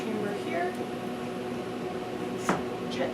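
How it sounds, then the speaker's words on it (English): A laboratory vacuum chamber loaded with microcosm plates runs with a steady, even mechanical hum and faint whirring, with a brief knock near the end. "So then we just start up the vacuum chamber here."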